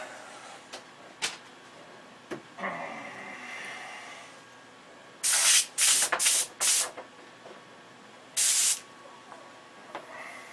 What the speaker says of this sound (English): let's see if we got sprayable liquid now